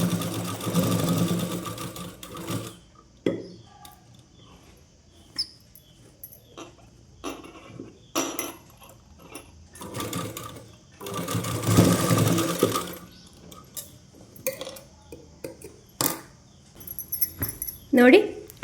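Sewing machine stitching a petticoat, with several close bursts of rapid mechanical whirring and clatter separated by pauses, while a person speaks in between.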